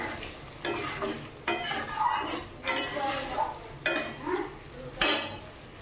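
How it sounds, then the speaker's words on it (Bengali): Spices with cashew and poppy seed paste are stirred and fried in a pan for a paneer dish, repeated scraping strokes with soft sizzling and occasional utensil clinks, close and moderately quiet. "তো এবার বাটিতেই মশলা, কাজু বাদাম আর পোস্ত জলটা আমি দিয়ে দিলাম, দিয়ে ভালো করে একটু কষিয়ে নেব"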